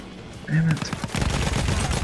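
A burst of rapid gunfire in Battlefield 1 crackles in the game mix, with a short tonal blip before it and dense repeated shots filling the second half.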